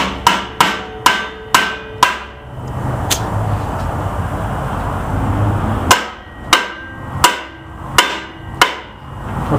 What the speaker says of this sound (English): Just hammer them down.